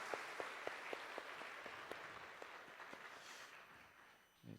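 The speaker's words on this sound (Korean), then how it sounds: "경외의 박수를 드립니다." A congregation at a Korean Sunday worship service claps in reverent applause after a testimony, a soft, diffuse wash of many hands with a few sharper individual claps, quiet and fading toward the end.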